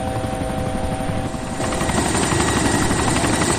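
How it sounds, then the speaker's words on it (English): A helicopter hovers in the video game DayZ, its steady rotor and engine drone loud and continuous, swelling a little louder partway through with no talk over it. "Is auto hover on, Ron?"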